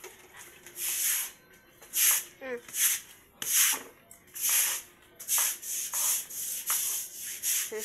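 A stiff brush scrubs an outdoor walkway to keep moss away, with repeated rough rasping strokes in an uneven rhythm, close and fairly loud.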